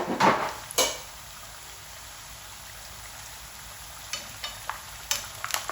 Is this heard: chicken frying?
yes